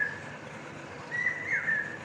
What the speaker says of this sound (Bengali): এইখানে ওই যে পাখিটা আবার ডাকতেছে